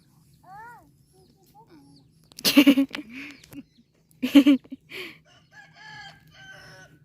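Rooster crowing on a rural morning, two loud harsh crows a couple of seconds apart standing out over quiet background, with faint birdsong and a few softer calls around them.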